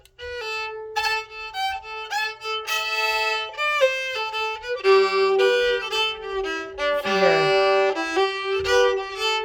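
Bowed fiddle notes sustain and slide, leaning into long held tones with some shorter notes between, played solo and fairly close.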